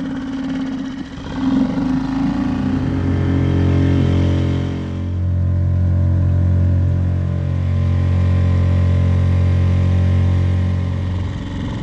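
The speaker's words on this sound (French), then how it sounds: "je mets le moteur en route" Small motor started up and left running steadily, a low, even drone with a strong hum that holds for several seconds after a brief rough start, close by and alone.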